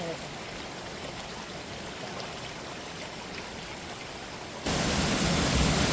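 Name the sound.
rushing water at Kalu waterfall stream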